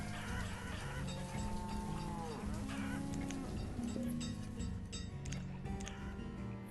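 Cattle mooing in the Banished city-building game, several drawn-out lowing calls at close range, overlapping with fainter farmyard fowl clucks throughout and no talk.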